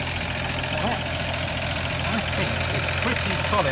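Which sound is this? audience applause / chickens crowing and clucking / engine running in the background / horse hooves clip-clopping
engine running in the background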